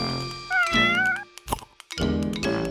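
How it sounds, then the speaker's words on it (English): A cat meows several times in short, clear, fairly loud calls, with brief pauses between them and a soft thunk in one gap. "It's a cat."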